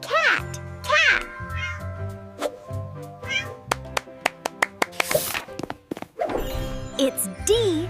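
Several cat meows ring out clearly over a bouncy tune, with light taps and a voice in the mix.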